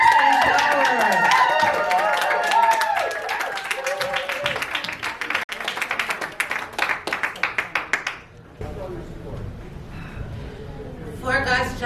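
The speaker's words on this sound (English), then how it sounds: "please give a round of applause for the amazing Joanna Rush in Sex and Power" Applause and cheering from a crowd mixed with a voice and music, steady clapping that grows into distinct rhythmic claps before cutting off, followed by quieter background sound and speech.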